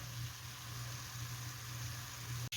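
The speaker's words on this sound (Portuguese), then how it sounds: "vai derreter e vai fritar essa carninha minha, pra dar uma corzinha pra ela" Meat frying in melting fat in a pot, the start of a creamy cassava soup, giving a steady, faint sizzle with a low hum underneath. Near the end comes one brief click.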